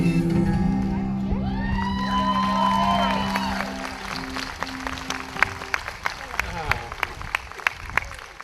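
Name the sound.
audience applauding street magic performer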